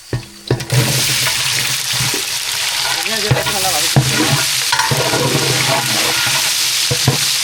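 Onions and chillies fry in hot oil for chicken biryani, a steady close sizzle with repeated stirring scrapes and clinks of a spoon against the pan, some water-like bubbling underneath, no talking.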